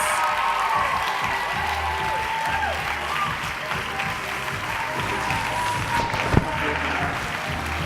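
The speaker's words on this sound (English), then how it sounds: "Everyone, please give a massive round of applause for Alex Matthews." An audience at a Juice Plus Game Plan 2018 event applauds a speaker being welcomed to the stage, steady clapping filling the hall, with brief voices and a sharp knock near the end.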